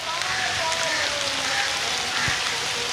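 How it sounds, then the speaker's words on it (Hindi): Heavy rain pouring down among mango trees during a storm, a dense continuous hiss that stays loud and even throughout, with a voice talking over it. "बारिश बहुत ज़्यादा है"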